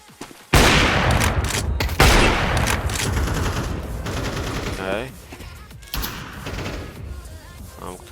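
Rapid gunfire in a Counter-Strike 2 deathmatch, loud bursts of automatic shots and single cracks piling up almost continuously, close and dense, with a player's voice talking over the shooting.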